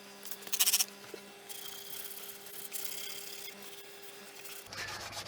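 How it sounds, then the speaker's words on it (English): Fine 1200-grit sandpaper rubs lightly across painted primer during a GSXR 1000 streetfighter build, a soft, faint, steady rasping with a brief louder scrape near the start and no talk. "I'm only going across it with 1200 grit, which is very fine"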